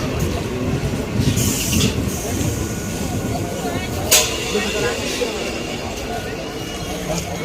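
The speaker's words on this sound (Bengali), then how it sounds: "ট্রেন কিন্তু ঢুকে গেছে, ট্রেন" A crowded Canning-line local train pulls into a station, its steady rumble and clatter running throughout, with a brief sharper metallic hit midway and people talking nearby over it.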